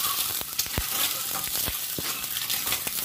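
Roasted eggs are stirred and sautéed in a pan of masala, a steady sizzle of frying broken by several sharp scrapes and clinks of the spoon against the pan.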